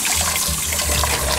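Tap water pours steadily into a baking pan holding ice, mixing up freezing cold water for a prank; a close, continuous rushing splash with no voices.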